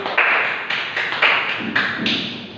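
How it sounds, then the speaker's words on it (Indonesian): A classroom applauding in a steady, dense patter of clapping hands, fairly loud and close, with no talking. "Nah, kita beri aplaus untuk Mas Yusuf."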